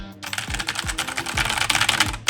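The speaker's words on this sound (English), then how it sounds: "If that's a mechanical keyboard, you are ought to make some clicking noise with it." Rapid clicking of a mechanical keyboard being typed on at an office Christmas party, a dense run of sharp, close keystrokes with a few heavier thumps, no talking.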